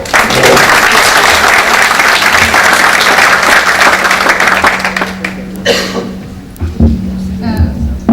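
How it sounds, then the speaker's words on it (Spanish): Audience applause at an evening engineering conference on numerical modelling, a dense, loud wash of clapping that tapers off over several seconds, with a few coughs and murmurs and a faint steady hum underneath. "Un aplauso para ella, por favor."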